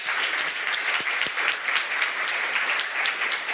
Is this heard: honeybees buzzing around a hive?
no